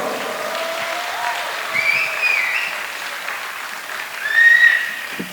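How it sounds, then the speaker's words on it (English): At a Kannada rock concert, the crowd applauds a band member's introduction, with scattered cheers and shrill whistles rising over the steady clapping. "One big round of applause."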